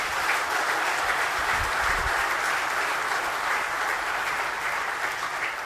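Dense, steady applause from an audience at a school awards night, a continuous wash of many hands clapping at even loudness for several seconds with no talk over it.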